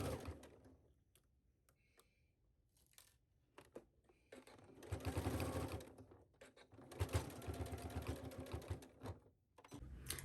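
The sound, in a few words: sewing machine stitching fabric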